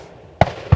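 Two sharp shotgun blasts ring out at a sporting clays tournament at a Houston gun club, a single booming report followed about a third of a second later by a second, fairly close and loud over quiet outdoor background.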